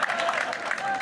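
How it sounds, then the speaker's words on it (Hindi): A live audience at a Hindi comedy poetry show claps in a brief burst of steady applause, a soft, dense patter of many hands heard from within the crowd. "ताली जोर से बजना चाहिए।"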